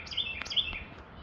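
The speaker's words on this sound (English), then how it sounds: "I think that's the raven" A raven calls twice on a mountain hike, two bright, close, high calls in quick succession over faint outdoor hush.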